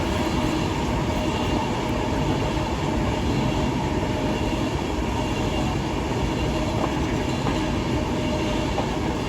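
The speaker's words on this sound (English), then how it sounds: "An Avanti Class 390 heads into London." An Avanti West Coast Class 390 Pendolino passenger train heads toward London on the West Coast Main Line, a loud, constant rushing rumble of wheels and air as it speeds past close by.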